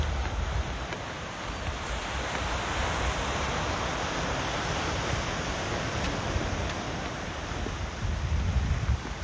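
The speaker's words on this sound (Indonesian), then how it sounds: "ombaknya ya." Ocean waves at a morning walking spot make a continuous, even roar of surf with a deep rumbling undertone, steady throughout and without any voices.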